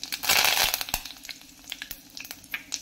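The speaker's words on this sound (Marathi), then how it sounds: "चांगलं तापलं की आपण त्यामध्ये आता घालून घेऊया अर्धा चमचा मोहरी, अर्धा चमचा जिरं आणि कढीपत्ता।" Half a spoon each of mustard seeds and cumin plus curry leaves hit hot oil for puri bhaji, bursting into a loud crackling sizzle that settles into scattered sharp pops and spits.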